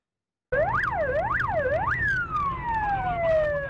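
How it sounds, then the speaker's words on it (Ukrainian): A loud siren wails, rising and falling in quick sweeps before settling into a long descending tone, with a second siren layered faintly above, from about a dozen emergency vehicles at night in Lutsk, Ukraine. "Завивання сирен і проблискові маячки десятка спецавто наполохали нічний Луцьк."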